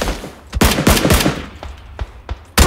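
Gunfire in the battle royale game PUBG (Battlegrounds) during a squad match: loud, close rapid automatic bursts and several separate single shots, sharp and punchy, with no voices.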